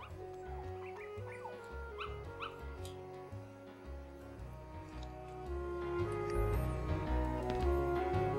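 Dalmatian puppy yips and whimpers from the Kingdom Hearts video game, short barks and whines over a steady game music bed that swells louder toward the end, with no talking.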